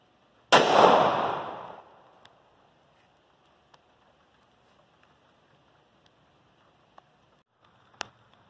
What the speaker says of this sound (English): I'm going to take another shot with the Winchester Ranger 38 plus P 130 grain bonded hollow points.